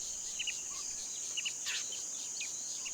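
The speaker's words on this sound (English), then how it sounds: "The only thing breaking the peace is the incessant screeching of cicadas." Cicadas in the African bush give a steady, high, thin screech that runs unbroken throughout, with a few brief bird chirps scattered over it in an otherwise quiet setting.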